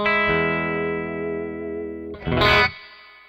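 A clean bass guitar played straight through a bass amp rings out in sustained low notes, then a sharper plucked attack, close and loud with no talking.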